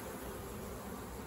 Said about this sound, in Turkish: Açalım şöyle körük vurmadan. Arının durumuna bir bakalım arkadaşlar.